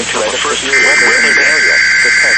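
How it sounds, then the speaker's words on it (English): A NOAA Weather Radio alarm tone test: a loud, steady electronic tone starts partway through and holds without a break, sounding over a broadcast voice reading the weather outlook. "the alarm tone will vary from place to place"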